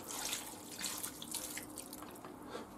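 White wine pours into a pot for garlic rabbit, giving a steady, close liquid splash and trickle that runs unbroken for about three seconds with no talking.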